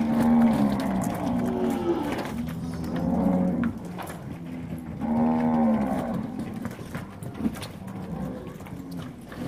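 Polled Nelore cattle, about five-month-old males and females, moo on a farm near Barra do Garças. Several long, deep moos overlap and repeat close by, loud and clear, with faint bird calls in the background.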